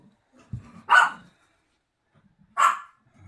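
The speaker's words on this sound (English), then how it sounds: "oh Lord, there's the dogs." Two sharp dog barks ring out a little over a second apart, moderately close and loud against a quiet room, with a faint low bump just before the first.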